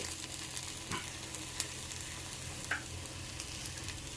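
Pesarattu upma cooks in a pan with a soft, steady sizzle and a few faint pops and crackles. The frying is low in volume and no one talks over it.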